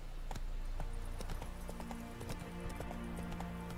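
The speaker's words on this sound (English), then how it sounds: "Whoa there, Roach" Horse hooves clip-clop steadily across ground in The Witcher 3: Wild Hunt, a fairly quick rhythmic gait under game ambience, quiet overall with no talking.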